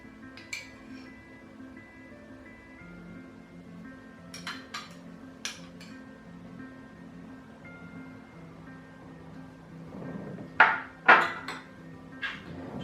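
Coconut oil and moringa oil are mixed together in a bowl for a body balm, with faint, sparse clinks and taps of a utensil against the container over a quiet background.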